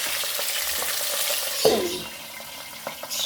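Fish fries in hot oil, crackling and spattering up close with a sudden louder burst partway through, then a quieter steady sizzle with light knocks.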